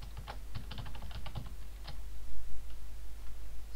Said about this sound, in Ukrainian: Все, тепер я ввів пароль правильно.